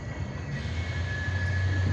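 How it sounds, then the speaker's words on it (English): Steady low rumble of a train rolling past nearby, with a faint high whine running along above the continuous drone. "Ooh, listen to that train."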